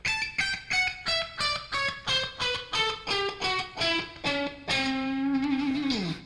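Someone plays a scale shape on a distorted electric guitar, about a dozen evenly spaced picked notes climbing and falling in a steady rhythm, ending on a sustained bent note that slides down.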